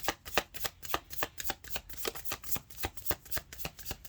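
Tarot cards are shuffled by hand in a steady run of soft riffling flutters, about three per second, quiet and close with no talking.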